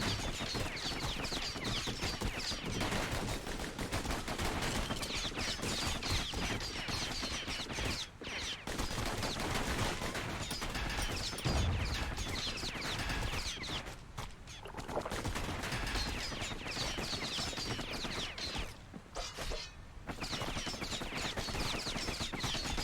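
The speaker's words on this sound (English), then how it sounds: "Know what's better than having a slinger pistol in a fight? Having two." Dual slinger pistols fire in Bastion, a rapid nonstop volley of overlapping gunshots that runs loud and dense throughout, with only a few brief gaps in the shooting.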